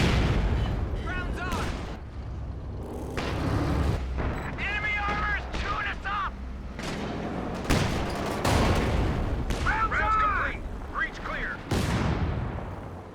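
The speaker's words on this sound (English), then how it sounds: "He's getting blasted by these rockets right now" Rocket artillery barrage in the strategy game Company of Heroes 2: repeated booming blasts and crackling explosions across the whole stretch, loud and dense, with voices talking over the battle.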